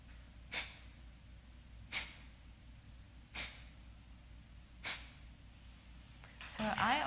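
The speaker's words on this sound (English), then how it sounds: "And it's simply breathing deeply with a forceful exhalation." Four sharp, forceful breath exhalations of kapalabhati breathing, spaced about a second apart, close to the microphone, followed by a brief rustle at the end.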